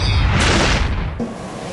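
Illegal firecrackers of the kind seized by Philippine police, such as Gangnam Bomb or Piccolo, set off one loud, close blast that roars on for under a second and then drops to a quieter background.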